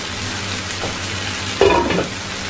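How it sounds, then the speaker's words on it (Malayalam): Prawns sizzle and fry steadily in a pan for a Kerala prawn stir-fry with kudampuli, with a brief louder burst of stirring and crackling near the end and no talk. "ഇനി പ്രോൺസൊക്കെ ഒന്ന് നന്നായിട്ട് കുക്കാക്കി എടുക്കുക."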